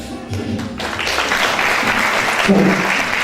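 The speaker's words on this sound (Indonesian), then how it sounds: "boleh kita tepuk tangan dong" Audience applause at a campus event in Bali swells after a short pause and continues as loud, dense clapping, with a voice briefly audible at the start.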